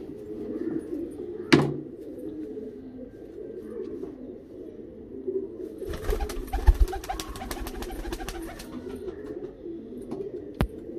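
Pakistani Teddy pigeons giving soft, low cooing in a loft, with a brief bump and a burst of rustling and fluttering partway through.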